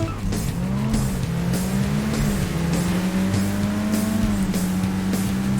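Cars race and skid in the video game Burnout 2, with a continuous engine drone, rising and falling revs and repeated tire squeals under steady crash-game action.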